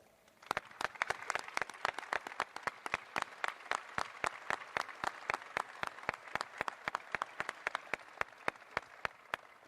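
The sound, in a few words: applause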